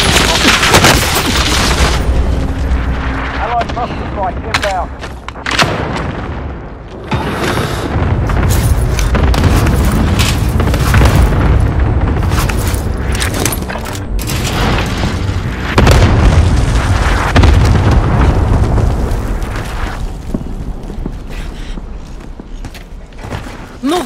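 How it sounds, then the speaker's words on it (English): Cluster strike in a video game: repeated heavy booms and crackling blasts rolling in dense, overlapping bursts for over twenty seconds, loud and close, with battle noise and voice callouts around them. "Cluster strike incoming."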